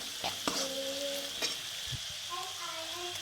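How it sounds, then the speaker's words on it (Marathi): Spices for dal tadka roast in hot oil with a soft, steady sizzle, broken by a few light scrapes and clinks of a spoon stirring the pan close by. "तेलामध्ये मसाले हे जे आपण टाकलेत हे थोडेसे तेलामध्ये भाजून घ्यायचे"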